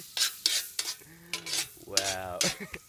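Tilapia frying in a pan, sizzling in uneven bursts alongside stirring and scraping sounds, close and moderately loud with no talking.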